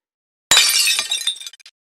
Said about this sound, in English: it knocks the big eye off the table, causing it to shatter into pieces.